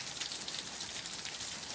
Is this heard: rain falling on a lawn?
yes